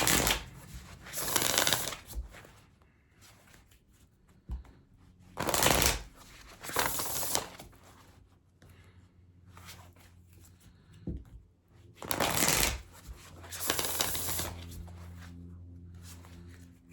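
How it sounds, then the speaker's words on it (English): An Earth and Bone Oracle card deck being shuffled by hand, several crisp riffling bursts of a second or two each, separated by quieter pauses with light handling rustle. "I'm going to pull an oracle card from the Earth and Bone Oracle"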